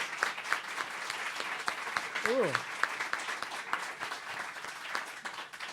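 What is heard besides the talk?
audience applause welcoming a speaker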